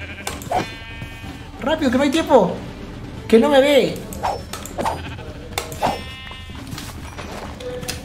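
Sheep bleating in a modded Minecraft survival game, a few wavering bleats close by, with someone talking excitedly over and between them.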